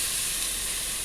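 Two chopped tomatoes hitting a hot pan, giving a steady, bright sizzle and hiss that holds evenly for about a second, close and alone.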